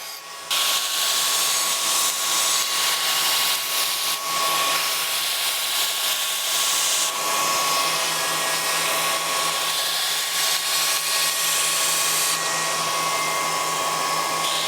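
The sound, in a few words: belt grinder rough grinding a knife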